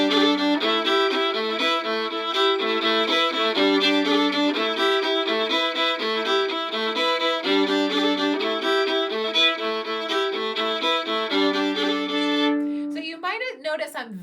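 A fiddle playing the bluegrass tune Rain and Snow, bowing a lively melody over double stops and open strings in a steady rhythm, loud and close, before briefly breaking off at the end.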